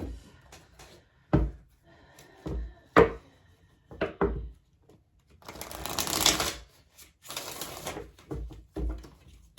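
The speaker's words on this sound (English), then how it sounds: "I think I'm going to pull from another tarot, but I just want to shuffle these really quick." A deck of tarot cards is shuffled by hand at close range: a run of crisp taps and riffles, then two longer bursts of rapid card-on-card shuffling, then more taps on a table.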